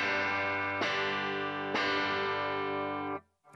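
Distorted guitar chords through a JTM1 amp with its tone control fully up, brighter and sustained, strummed twice with a ringing tail before stopping abruptly, close and without speech.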